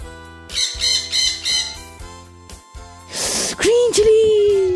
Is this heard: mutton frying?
no